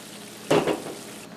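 Potatoes frying in a pan over a medium flame, with a short burst of sizzling and scraping as they are stirred, two quick swells against a quiet kitchen background.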